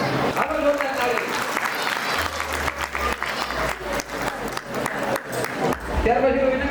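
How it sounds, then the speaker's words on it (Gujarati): Applause from guests at a family get-together, a steady dense clapping that carries through the whole stretch, with voices talking over it. "હાલો જોરદાર તાળી."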